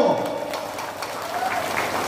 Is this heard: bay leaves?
no